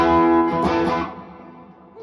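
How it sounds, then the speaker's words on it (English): A distorted electric guitar chord, played on the bridge pickup with the tone knob turned down, rings out and fades slowly into a long, washy reverb tail, with no voices. "that's a lot of reverb, sorry"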